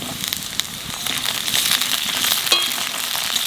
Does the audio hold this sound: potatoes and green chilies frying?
yes